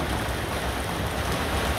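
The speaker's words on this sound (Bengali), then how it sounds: "পর্যাপ্ত পরিমাণে বৃষ্টি হচ্ছে।" Heavy rain pours steadily in Jhenaidah Sadar, a dense continuous wash of drops with no pauses or voices.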